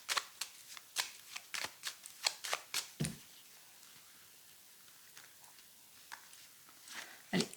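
Tarot cards are shuffled up close in a rapid run of crisp riffling bursts for about three seconds. A few sparse, softer card shuffles follow, with no talking.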